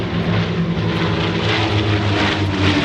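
A loud, steady roar of propeller aircraft engines as planes pass overhead at the 2025 Geneseo Airshow, droning continuously and close with no voices.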